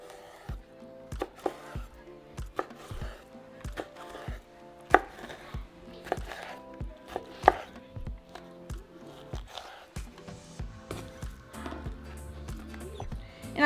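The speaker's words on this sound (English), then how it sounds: "So the nopales, I'm just going to cut it, lay my nopales like that, and then cut them" Knife chopping nopales cactus paddles into strips two at a time on a cutting board, a quick irregular run of crisp close thunks and taps, fairly steady across the whole stretch with no talk.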